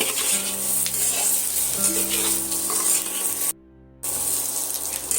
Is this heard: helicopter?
no